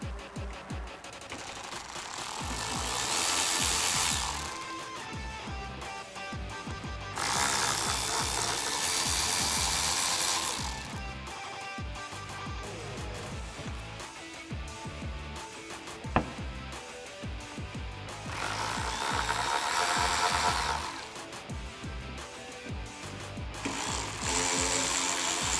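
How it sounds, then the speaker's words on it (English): Power tool loosening T30 Torx bolts from the soft top frame brackets on a Jeep Wrangler JK, several sustained buzzing bursts of a few seconds each with quieter handling noise between, close and loud, no talking. "now we're gonna remove the 4 T30 bolts, 2 on each side that connect your frame to the brackets."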